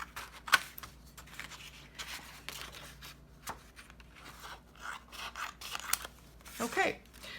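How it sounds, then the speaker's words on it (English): Scissors trimming a piece of sketchbook paper smaller, scattered close snips and papery rubbing and rustling at low volume, with a few sharper cuts. "And then I'll just cut this paper smaller."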